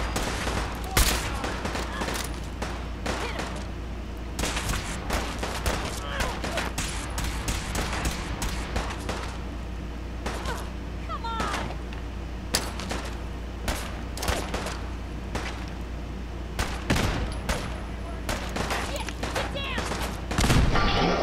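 Gunfire in the video game Fallout 4 crackles in dense, irregular volleys of close shots over a constant low rumble, continuing for the whole stretch.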